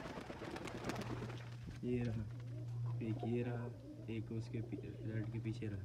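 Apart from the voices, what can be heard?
pigeons cooing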